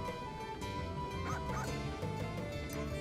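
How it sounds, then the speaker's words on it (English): A puppy barks in the video game Suikoden V with a few short, high yips and whimpers over a faint steady background, the calls soft and somewhat distant. "It's a puppy!"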